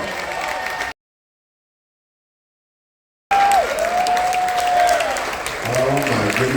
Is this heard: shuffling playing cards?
no